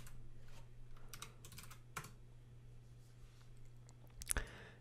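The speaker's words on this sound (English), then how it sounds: "So we're going to insert the password." Typing a password on a computer keyboard: soft, quick key clicks in irregular bursts, faint and close, with a couple of louder taps near the end and a low background hum.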